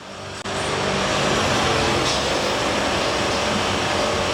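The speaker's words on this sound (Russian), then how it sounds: "Нет, это звук поршневой." Skoda Fabia with a CFNA petrol engine running with a piston knock, a steady loud mechanical engine drone close to the microphone, starting after a brief click and holding constant.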